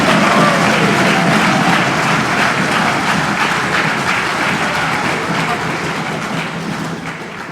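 Sustained applause from a large hall of union delegates, a loud, dense wash of clapping hands that continues steadily for over seven seconds and slowly tapers at the end.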